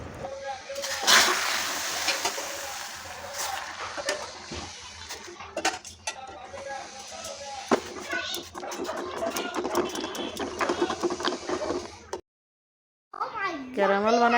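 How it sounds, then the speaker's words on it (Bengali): Hot milk is poured into sugar caramel in a kitchen pan for misti doi, giving a sustained splashing and sizzling with clinks of utensils, while a voice talks over it. "এখন আমি দুধ ঢেলে এবার একটু গরম করতেছি"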